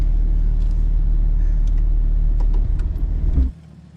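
A Jeep Cherokee XJ with a long arm kit crawls off-road over rocks, its engine giving a loud, steady low rumble close by that drops off sharply near the end.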